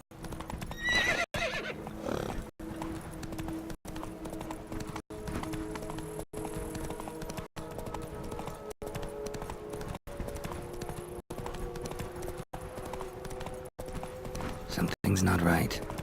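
Roach the horse gallops in The Witcher 3, with rapid rhythmic hoofbeats, a neigh and a close, steady run under game music, while voices talk over it.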